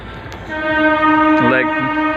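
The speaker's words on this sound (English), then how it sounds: "so you can hear the sound of train also. Here is a rail track very close that you can hear" A train horn sounds loudly from a rail track very close by. The sustained tone bends and wavers over a rumbling background.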